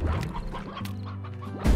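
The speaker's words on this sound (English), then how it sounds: "There's a chicken in there!" A chicken clucks in the Slime Rancher video game, giving a few close, quick clucks, followed by a sudden loud thud or crash at the end.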